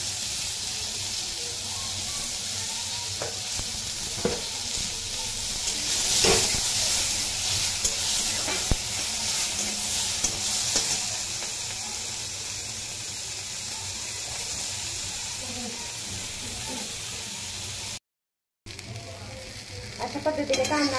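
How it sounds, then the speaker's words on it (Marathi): Onion and tomato sizzle steadily while being sautéed for a paneer curry, a continuous frying hiss with occasional stirring scrapes, close and fairly loud, with a brief dropout near the end. "टोमॅटो चांगला मऊ होईपर्यंत आपल्याला भाजून घ्यायचं।"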